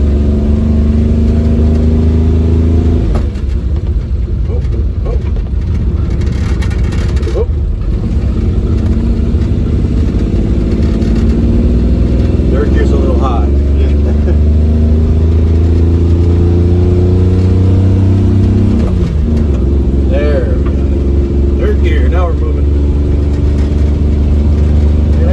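A mini truck engine pulls steadily in second gear at about ten miles an hour, a loud continuous drone with rising and falling pitch as it moves along.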